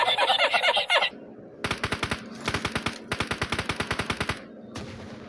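Rapid bursts of automatic machine gun fire in the video game PUBG Mobile, several sharp rhythmic volleys separated by short pauses, preceded by a brief noisy gust and loud and close throughout.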